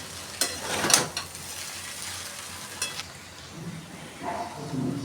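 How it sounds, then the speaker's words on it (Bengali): Chow mein with vegetables, chicken, prawns and egg is stirred and tossed in a pan over a high gas flame, giving a steady sizzle broken by a few sharp scraping clatters of the utensil. "আমি সব দিয়ে দিলাম একসাথে, দিয়ে মিশিয়ে নিচ্ছি।"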